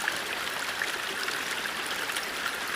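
A small stream flows steadily along a walking route, a continuous close, even rush and trickle of water with no voices over it.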